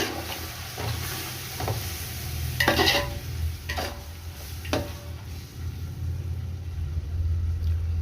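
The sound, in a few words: stirring curd mixture in pot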